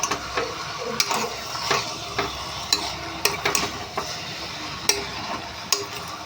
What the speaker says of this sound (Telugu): చికెన్ ఉల్లిపాయలను కూడా మగ్గించుకోవాలండి